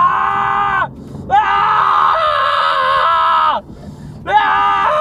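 A voice screams loudly and at length, two sustained, strained yells broken by a brief gasp, close and piercing.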